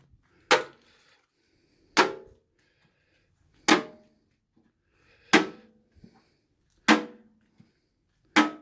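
A magnet slaps onto the metal body of a 1972 Dodge Charger, giving six sharp, close clacks spaced about a second and a half apart, each ringing out briefly, with no talk.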